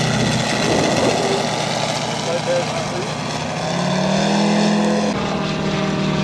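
A scale model aircraft passes on a flyby, its small engine droning loud and close, rising and falling in pitch as it goes by, with a brief shift near the end.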